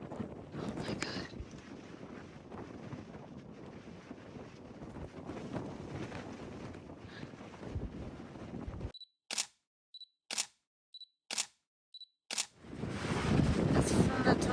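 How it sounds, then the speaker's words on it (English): Strong wind buffets a microphone on a mountain top, a roaring, rumbling gust that runs for several seconds, breaks into a few short bursts around silent gaps, then returns loud at the end. "This is very windy."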